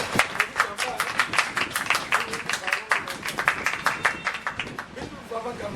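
An audience applauds at a public meeting with someone, a dense run of sharp, fairly quick claps that holds steady throughout and eases slightly near the end, with a murmur of voices underneath.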